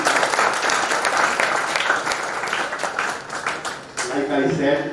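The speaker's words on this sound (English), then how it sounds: "I want all of you to please compliment them with a big round of applause." A hall audience at an expert talk gives a loud, sustained round of applause that fades near the end, where a speaker's voice comes in.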